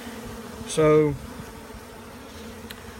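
Honey bees full of honey buzz while being moved from a water meter box into a hive, a steady low drone with one loud close pass of a bee near the microphone, and a voice speaks briefly.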